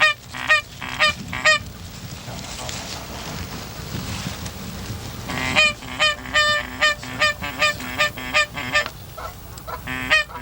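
A flock of geese honking over a corn field during a Michigan goose hunt, with repeated loud honks in clustered bursts, many calls overlapping near and far, over steady wind noise.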